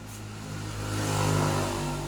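A Honda Supra motorcycle engine runs during a carburetor idle screw adjustment, a steady idle that swells slightly in loudness and pitch midway through, close by with no speech.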